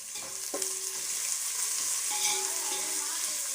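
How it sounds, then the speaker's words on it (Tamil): Onions fry in a pan for a Chennai-style duck curry, giving a soft, steady sizzle with a few light scrapes of stirring. "வச்சு வெங்காயம் நல்லா வதங்கட்டும்"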